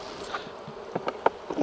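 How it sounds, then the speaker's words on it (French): Honeybees buzz around a hive holding a swarm, with a few faint passing drones and brief close buzzes that come and go against a quiet outdoor background. "il y a aussi des butineuses qui sont dehors là,"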